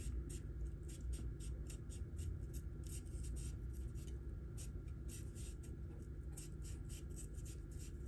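A Nigara 210 mm R2 damascus gyuto knife peeling produce, making soft, rapid, rhythmic scraping strokes close by at low volume over a steady background hiss.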